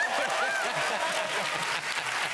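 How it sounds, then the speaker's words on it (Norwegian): Studio audience applause during a Norwegian TV competition show, a steady wash of clapping lasting throughout, mixed with a voice speaking over it. "Du får applaus"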